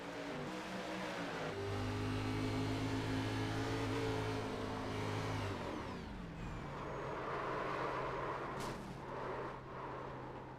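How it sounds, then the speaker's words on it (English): A race car engine drones loud and close from inside the cockpit, its pitch holding steady, then dropping and shifting as it slows. "Have a listen from the cockpit now of Jake Millsap."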